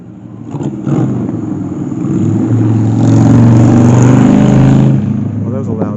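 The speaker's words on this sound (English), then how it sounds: "Well, that was a loud motorcycle." A loud motorcycle passes along a street in Galena, Kansas, on Route 66, its engine growling up to a close, sustained peak and then fading away, with a voice talking over it.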